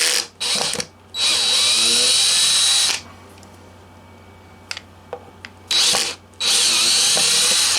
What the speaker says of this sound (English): So I think it's perfectly okay to use a drill.